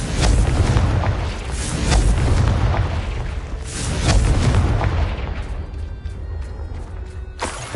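Confringo fire spell explosions in the video game Hogwarts Legacy: a rapid series of loud, deep booms and blasts rolls on for several seconds, with one more sharp burst right at the end.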